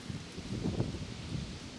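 Low, blustery rumble of wind buffeting the microphone, swelling and easing briefly with no voices.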